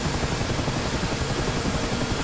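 A Mi-8 (Mi-17) helicopter's engines run at startup with a steady, loud, broadband turbine roar and whine that holds constant throughout, with no talk.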